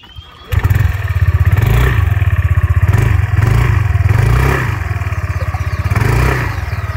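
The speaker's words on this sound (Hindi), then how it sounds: "इसके एग्जॉस्ट नोट की बात करें तो वो भी मैं आपको अभी सुना के दिखा देता हूँ" A Yamaha Aerox S 155 scooter engine starts up abruptly and is blipped repeatedly, its exhaust note rising and falling in several loud revving swells with a steady rapid pulse, recorded close up.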